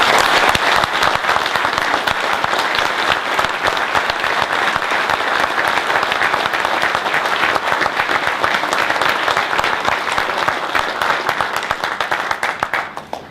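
A large audience at a Tire Industry Hall of Fame induction ceremony breaks into loud, sustained applause, dense steady clapping that holds strong throughout and then begins to fade at the end.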